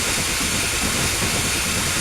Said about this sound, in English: I don't know what that hissing was, but hissing is bad.